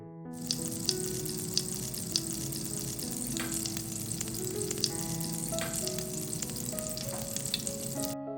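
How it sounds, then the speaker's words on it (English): Cooking oil and butter sizzle and crackle steadily in a hot pan, a dense continuous frying hiss with scattered small pops and faint stirring clinks, close and with no talking. "add a little cooking oil, and a bit of butter to enhance the aroma."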